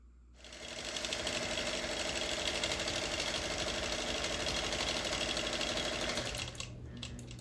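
A sewing machine free-motion quilting roses on a panel quilt runs in one steady, rapid hum and clatter of stitching, loud and close, starting after a short pause and easing slightly just before the end.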